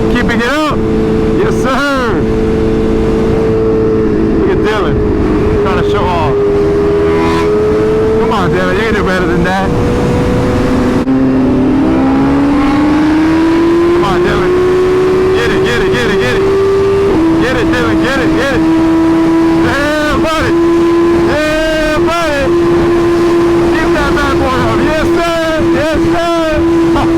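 Motorcycles riding past and doing wheelies, engines revving up and settling into long sustained drones with rising and falling pitch, loud and close, while people talk and call out over the noise throughout.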